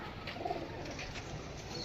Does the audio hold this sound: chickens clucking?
no